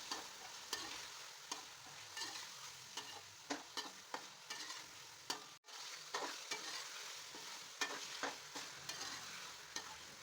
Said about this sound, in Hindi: पहले हम आलू डालकर 2 से 3 मिनट तक इनकी बुनाई करेंगे।